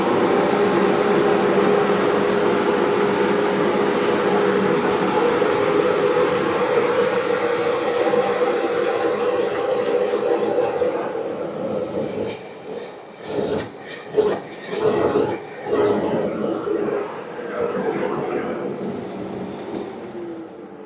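A WEN 50-gallon, 1300 CFM dust collector runs in a cold woodshop as a loud, steady broadband roar, breaking into choppy, uneven surges near the end.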